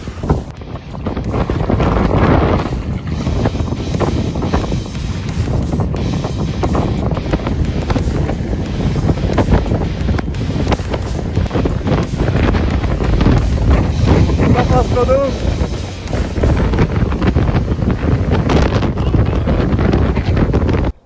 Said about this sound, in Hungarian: Brutális kemény volt, 80-90 km/h északi szél